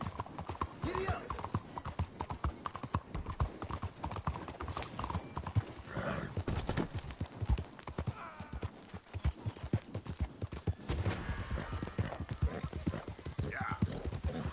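A horse gallops in the Red Dead Redemption 2 video game, with rapid, rhythmic hoofbeats pounding throughout, a brief whinny, and voices speaking at times over the steady clatter.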